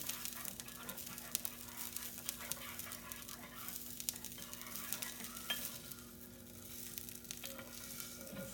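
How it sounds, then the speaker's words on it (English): Gravy being stirred in a pan for a Thanksgiving leftover pressed sandwich, a steady soft scraping and gentle sizzle under a constant low hum, fairly quiet and continuous with no voices. "Let me give this gravy another stir"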